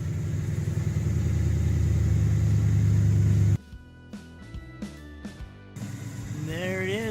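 A Ford F-150's Coyote 5.0 V8 with MagnaFlow exhaust rumbles at a deep steady idle up close, cuts out, and returns after a pause while someone talks over the quieter gap.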